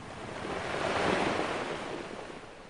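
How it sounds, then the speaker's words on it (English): Huge storm waves from a storm surge crashing on the shoreline of shallow bays near Nelson, a steady roaring wash of surf that swells and fades with wind buffeting the microphone. "As the huge waves clawed at shorelines and rushed into people's homes, Nelson sailor and charter boat operator Mar"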